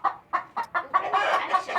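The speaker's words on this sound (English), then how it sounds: "Oh, there's a chicken in the milk room." A chicken clucks inside a goat-milking room, a close, loud run of about eight quick clucks that blur into a longer agitated cackle toward the end.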